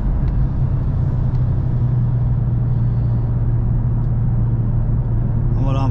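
A 2020 Mercedes A45S with 421 hp pulls hard after dropping a gear. Its engine note is a loud, steady, close drone that rises slightly toward the end, with no talk over it.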